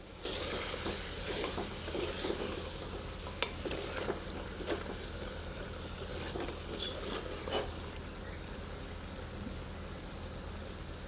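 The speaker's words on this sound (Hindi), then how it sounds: "फ्लेम को हाई पर रखकर 2 से 3 मिनट और भूनते हैं ताकि दही में से घी सेपरेट हो जाए" Yogurt-coated chicken curry frying in a clay pot over a high flame gives a steady, close, dense sizzle, with occasional scrapes and stirring knocks that ease off near the end. No voices are heard.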